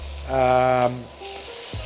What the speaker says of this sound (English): here we're just going to cook it until it gets a bit of sort of color on the